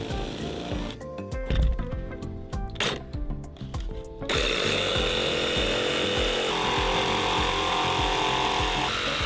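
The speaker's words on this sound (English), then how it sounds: "that I would cut out using a jigsaw, and that is where the 5-inch insulated stovepipe would exit the roof of the trailer" A jigsaw cuts a hole for a 5-inch insulated stovepipe through a travel trailer roof, starting with rapid, choppy reciprocating bursts, then settling into a loud, steady buzzing cut at close range.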